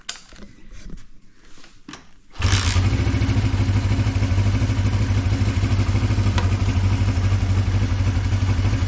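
After a couple of seconds of quiet clicks and fiddling, a pre-war Riley Brooklands car engine fires up on half choke and settles into a loud, steady, even idle close by for the rest of the clip.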